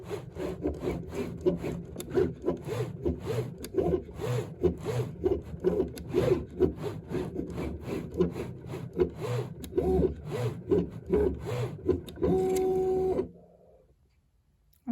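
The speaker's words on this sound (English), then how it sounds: "So now I'm going to hit start." A Loklik cutting machine cuts out a design with a steady rhythmic mechanical whir and scraping, its carriage buzzing back and forth close by, then stops abruptly near the end.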